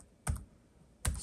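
Two crisp keystrokes on a Lenovo ThinkPad TrackPoint Keyboard II, sounding close, distinct and evenly spaced about a second apart in a quiet room.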